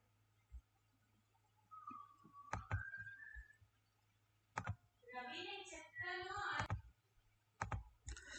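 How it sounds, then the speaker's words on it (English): Mouse clicks at a computer desk, sharp close clicks including a quick pair, spread between stretches of a person talking. "you need to double click on the Visual Studio Code."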